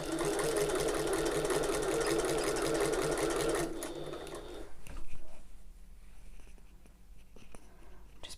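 Sewing machine stitching an open-top tote bag runs in a loud, steady whir for about four seconds, then stops, leaving quieter handling clicks and rustles of fabric and thread.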